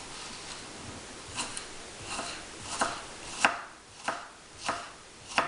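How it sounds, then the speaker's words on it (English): An onion minced with a ceramic knife on a cutting board, a series of about eight crisp, spaced chops with quiet gaps between them, close and fairly soft. "I'm just basically going to take this onion and I'm going to mince it."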